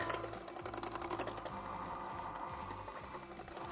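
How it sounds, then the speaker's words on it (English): A mixer whisks egg whites with salt while they heat toward 150 degrees for meringue, giving a steady, close mechanical whirring with a fast rattling pulse that runs the full length without pause. "I'm going to whisk this as I heat it up to 150 degrees"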